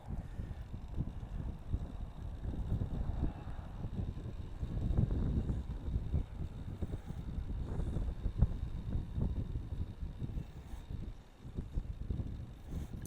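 Wind gusting outdoors at a shooting range on a 66-degree day, a steady low roar buffeting the microphone with rising and falling gusts throughout, no other sounds standing out.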